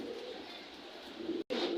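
Pigeons coo softly at a busy pigeon market in Bangladesh, a short low murmur of calls against a faint background with no speech.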